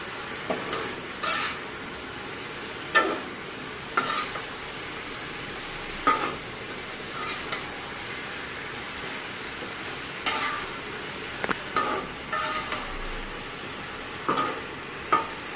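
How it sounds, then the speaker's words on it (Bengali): Water lily stalks (shapla) are stirred in a pan over low heat, a soft background sizzle broken by irregular scraping strokes and clacks of a spatula, moderately close with no talking. "এখন আমি শাপলার ডাঁটাগুলো দিয়ে দিব।"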